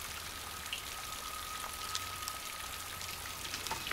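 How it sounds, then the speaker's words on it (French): Rain and wind outside old ruins, a steady hiss with scattered drop ticks and a faint low rumble, continuous and moderately quiet. "dehors, il y a trop de pluie et trop de vent pour pouvoir entendre quelque chose"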